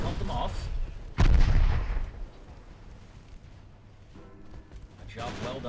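Naval gunfire in the warship strategy game Ultimate Admiral Dreadnoughts: a single loud, close artillery boom rolls out with a long rumbling tail, then softer game noise continues.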